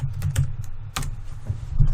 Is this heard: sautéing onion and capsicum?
no